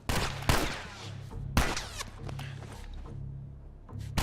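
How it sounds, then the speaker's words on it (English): Gunfire in The Last of Us video game: a few sharp, loud shots spaced about a second apart, with ringing echoes and quieter clatter between them, a voice faintly present. "How many times have you shot this other guy? Firing another round."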